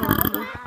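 A short, throaty burp erupts at close range over game chat, a brief guttural rumble that quickly fades.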